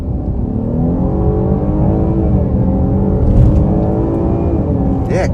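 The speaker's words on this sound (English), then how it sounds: "we'll step on the gas hard because with the 265 tires, it should put the power down" A 2023 Chevy Blazer RS on 265 tires launches hard off the line, its engine loud and close, the pitch rising steadily in one long pull with a quick shift near the end.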